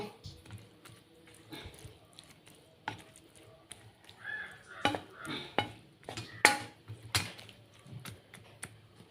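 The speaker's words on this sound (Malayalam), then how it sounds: "ഇത് നല്ലോണം ഒന്ന് ഇളക്കി കൊടുത്തിട്ട് നമുക്ക് തിളച്ചിട്ടൊന്ന് വാങ്ങി വെക്കാം" A spoon stirs green gram curry in a metal pot, giving irregular close scrapes and clinks against the pan, with quiet talk in the background between strokes.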